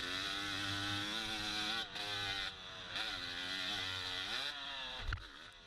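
A motocross bike rides a double jump at Byron Motosports Park, its engine droning loudly with pitch swells and dips, brief cuts in the throttle, and a thump near the end.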